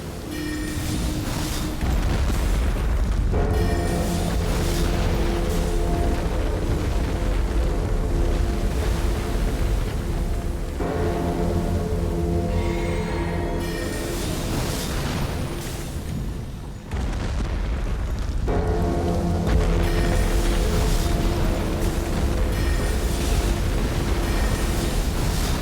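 Repeated heavy booms and blasts from a walking mobile artillery enemy in Elden Ring, loud and dense throughout, with rumbling explosions arriving in waves and no talk over them.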